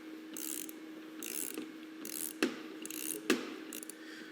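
A 4-to-1 torque multiplier ratchets in repeated clicking strokes while collapsing a rear axle pinion bearing spacer, with several bursts of rapid pawl clicks and two sharper knocks, close and alone.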